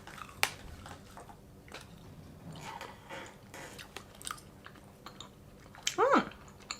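Sour chewy gummy candy is bitten and chewed close up, giving soft wet squishing and scattered crunchy clicks at irregular moments, with a brief voiced sound near the end.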